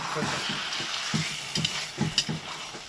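Potatoes coated in ground spice paste are stirred in a hot pan for aloo dum, with a series of rhythmic scrapes and clatters over a soft, continuous sizzle at close range.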